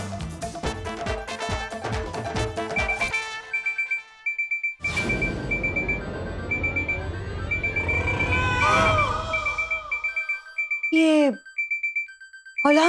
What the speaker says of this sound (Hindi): अलार्म की आवाज कहां से आ रही है?